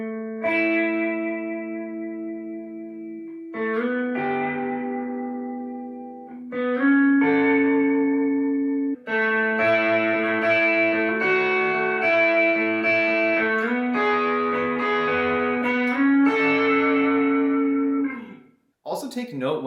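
Electric guitar notes, with the tone shaped by effects and distortion, played one after another, some held static and others wavering with vibrato, sustained and loud with short gaps between phrases.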